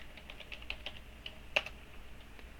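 Soft, quick keystrokes on a computer keyboard as a password is entered, a short run of light clicks with one slightly sharper tap, close by and fairly quiet.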